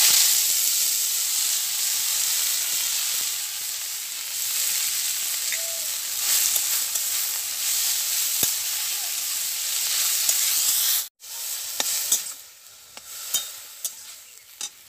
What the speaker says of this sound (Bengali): সেই শাকটা ভেজে নেব।